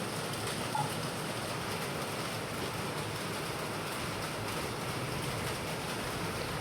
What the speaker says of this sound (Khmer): ពេលដែលប៉ងធ្វើម្ហូបនឹងមេឃភ្លៀងមកប៉ក់តែម្ដង